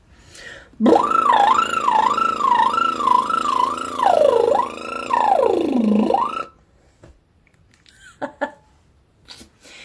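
A voice imitates a siren with a buzzy, lip-trilled wail that rises and falls repeatedly for several seconds, then stops, followed by quiet breaths.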